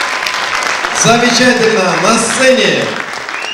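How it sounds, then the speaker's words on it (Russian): A concert audience at a February 23 celebration applauds steadily throughout, a dense wash of clapping under a presenter's loud amplified announcement. "Давайте поаплодируем."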